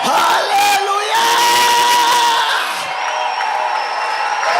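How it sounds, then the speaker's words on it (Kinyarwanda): A church congregation erupts in loud, sustained cheering with shrill, wavering ululation rising over the crowd's roar, continuing throughout without pause. "Muyishimire, muyivugirize impundu, muyizamure icyubahiro, irabikwiriye."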